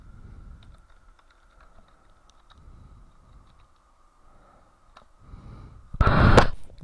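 Keys on a computer keyboard click in a quiet room, a few sparse soft taps followed by a louder, brief burst of rapid typing near the end.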